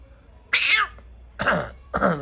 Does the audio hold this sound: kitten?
yes